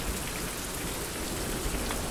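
Steady rainfall in a survival video game, a dense, even patter of drops hitting surfaces that holds at a constant level throughout, with no voices.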